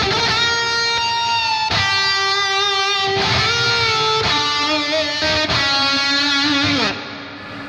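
Heavily distorted metal electric guitar played through the Fortin Nameless Suite amp plugin with effects and reverb added, sustained chords and bends in several phrases with short breaks, loud and close, ending in a reverb tail.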